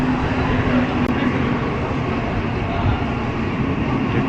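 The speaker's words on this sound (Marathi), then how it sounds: "ट्रेन आले" An 8:45 Andheri local train arriving at Churchgate station, a steady dense rumble of rolling cars and station noise, continuous and fairly loud with faint crowd murmur.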